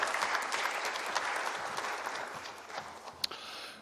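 Fairly faint, steady applause from a conference audience welcoming an opening speaker at an oral health keynote event, continuous clapping with one sharp clap standing out near the end.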